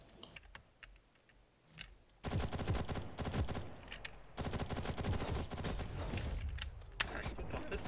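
Rapid bursts of automatic gunfire from the online shooter game Ghost in the Shell First Assault erupt after a quiet start, continuing in dense, loud volleys with brief gaps.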